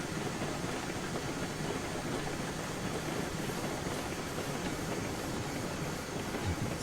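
A train running in the video game Railroads Online, heard as a steady, loud rolling rumble with a faint clickety-clack of wheels that holds unbroken throughout.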